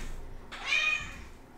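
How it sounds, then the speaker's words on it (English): A cat meows once while playing indoors, a short, fairly faint, rising-then-falling meow over a quiet room background. "My cat is just playing with something and it's driving me crazy"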